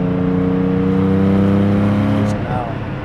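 Porsche 718 GT4 engine holding a steady, loud rev around 4,000 RPM, a strong sustained drone that drops away near the end as the throttle lifts, followed by a brief blip.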